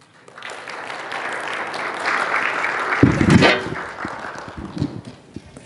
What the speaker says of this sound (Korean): 마음으로 박수로 맞이하도록 하겠습니다.